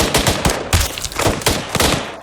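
ArmA III gunfire crackles in quick, loud bursts of repeated shots, several rapid volleys over a couple of seconds, close and sharp.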